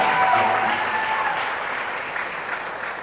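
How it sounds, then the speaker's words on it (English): A crowd at a moot court competition session applauds after a dance performance, a loud, sustained wash of clapping that stays even throughout and eases slightly toward the end. "Well, a round of applause"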